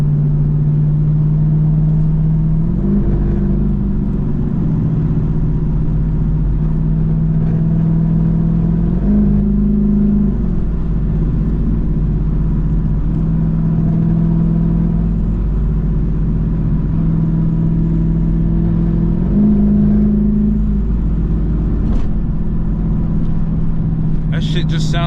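A Jeep SRT8 rumbles loudly from inside the cabin while driving, its deep engine droning steadily with several brief revs rising and falling in pitch.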